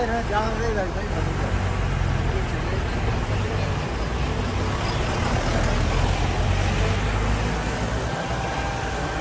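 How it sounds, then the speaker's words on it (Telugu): A large bus stuck in traffic on a narrow mountain road toward Gangotri sends out a continuous engine drone and road noise, with people talking over it throughout. "బస్సు మొత్తం అలా ఇరుక్కుపోయింది."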